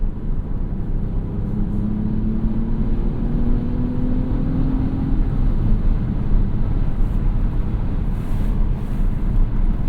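Lexus ES 350 F Sport V6 engine and exhaust on the move, a steady low drone with broadband road and wind noise, rising slightly in pitch early on, then holding an even cruising roar throughout.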